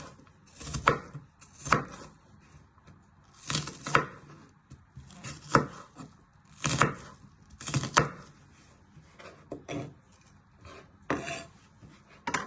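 A knife cutting onion on a board for Mexican prawn soup: close, repeated chopping strokes in irregular bursts with scraping between them, no talk.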